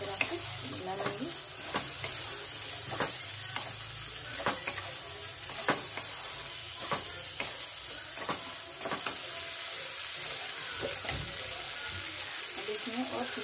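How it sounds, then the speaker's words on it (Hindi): Chopped tomatoes are stirred into a sizzling frying pan for egg biryani. A steady frying hiss runs under repeated close scrapes and clicks of a spoon against the pan. "जो कटा हुआ टमाटर दे दूंगी इसमें। टमाटर देने के बाद मैं इसको अच्छी तरह से मिला लूंगी।"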